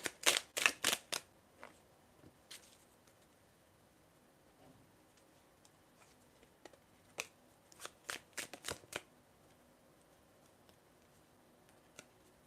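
A love and soulmate oracle card deck being shuffled, crisp riffling bursts clustered at the start and again midway, separated by quiet pauses and a few soft single taps.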